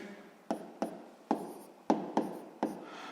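A pen writes math by hand on paper, six short sharp scratching strokes spaced irregularly, close and fairly quiet, with no talking over them.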